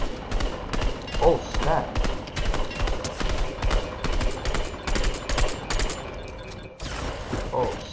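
Rapid bursts of gunfire in the Fortnite video game rattle in quick clusters throughout, loud and close, with a player's voice briefly heard over them.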